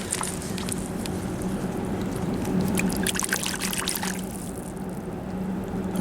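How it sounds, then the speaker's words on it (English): Water pours and trickles over a china doll's head being rinsed by the River Thames, a soft, continuous splash heard up close with faint background ambience. "Let's give her a little rinse off."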